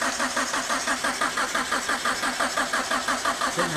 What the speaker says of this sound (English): Alright, so we're gonna try to start Carl's car.